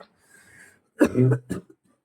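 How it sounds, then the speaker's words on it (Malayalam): A short, deliberate cough, two or three forced bursts up close, preceded by a soft breath and followed by quiet. "നീ ചുമച്ച അഭിനയിച്ച് കാണിച്ചതാ"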